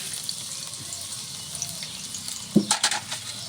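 Minced garlic hits hot oil, setting off a soft, steady frying sizzle that swells into a few sharper crackling bursts near the end, with no talking.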